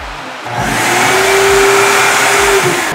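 A free car mat vacuum cleaner at an indoor self-service car wash starts up and runs with a steady, loud whining roar, rising quickly after a brief quiet start and holding close by with no talk.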